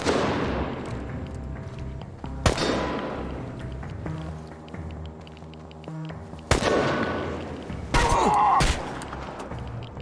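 Gunfire in the video game Chernobylite, a few loud sharp shots spaced across the stretch with ringing decays and a quick cluster of bursts near the end, over a low game ambience.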